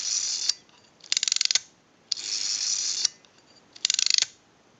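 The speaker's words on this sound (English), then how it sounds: "If you hear that sound effect, the ratcheting noise," Rotary dial on an AE candlestick telephone ratchets through two pulls, each a steady whirring return followed by a quick burst of close, crisp clicks, with short quiet pauses between.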